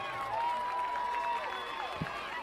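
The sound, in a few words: football crowd applauding injured player leaving field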